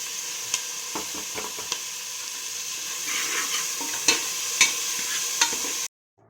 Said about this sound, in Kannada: ಟೊಮೆಟೊ ಕೂಡ ಹಾಕಿ ಚೆನ್ನಾಗಿ ಫ್ರೈ ಮಾಡ್ಕೋಬೇಕು ಎಣ್ಣೆಯಲ್ಲಿ